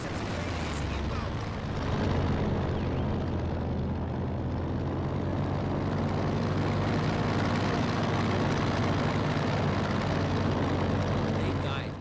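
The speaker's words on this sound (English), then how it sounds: "Friendly reconnaissance plane is inbound!" A friendly reconnaissance propeller plane flying over in the World War II game Company of Heroes 2, a heavy continuous engine drone filling the scene, loud and steady for the whole stretch, with rumbling battle noise mixed in.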